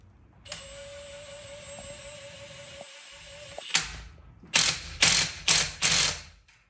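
A ratchet on roughly nine inches of extension tightens bolts on a Nissan 350Z rear differential: a long smooth clicking stretch, then four loud separate bursts of rapid ratcheting up close.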